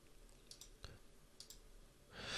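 A mouse click sounds once, faint and close, in a quiet room, with a few soft ticks and a breath before a brief rustle at the end.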